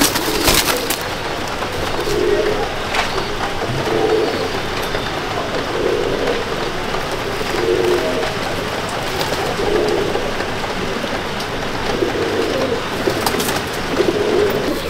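Pigeons coo steadily in a loft as a pair is released, a continuous chorus of soft repeated coos with rustling and light pattering throughout, no voices.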